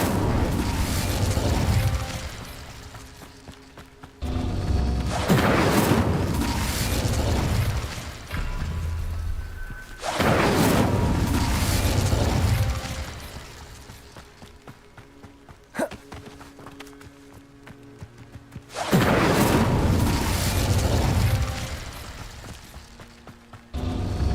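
Incendio fire spells cast in Hogwarts Legacy, five loud whooshing blasts spaced a few seconds apart, each one a booming burst that fades out, with quieter footsteps and mechanical game sounds in the gaps.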